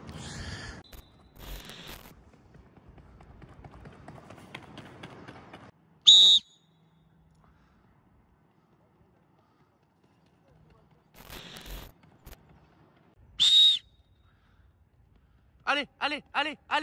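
A coach's whistle on an athletics track gives two short, sharp blasts several seconds apart, loud and close, between stretches of talk and quieter background.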